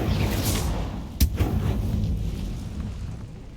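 A fiery Incendio spell cast in Hogwarts Legacy gives a roaring, rumbling blast with a sharp crack in the middle, then a slowly fading burning rush, with no voices.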